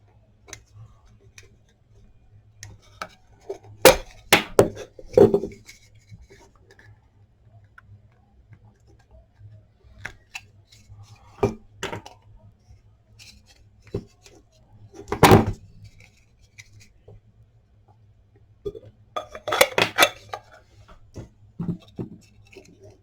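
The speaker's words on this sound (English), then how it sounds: "Maybe we cut a little bit of this part off too." Parts are cut off an LED star projector, heard as a few scattered sharp cracks and snips, close and spaced apart over a faint steady hum, with quiet handling noises between them.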